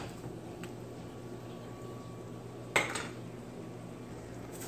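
A spoon scrapes and knocks once against a pot of spinach stew, a single sharp clink and brief stir amid quiet kitchen background noise.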